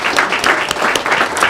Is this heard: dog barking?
no